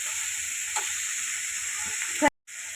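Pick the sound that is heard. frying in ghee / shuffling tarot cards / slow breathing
frying in ghee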